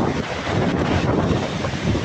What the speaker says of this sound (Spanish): ¡Tiene un chorro de aire!